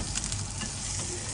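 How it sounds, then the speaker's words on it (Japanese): Food frying with butter and soy sauce in a pan for a bento, a loud close crackling sizzle with stirring, steady for its short length. "でバターをよか風に絡めたらさ、醤油をしゃって。"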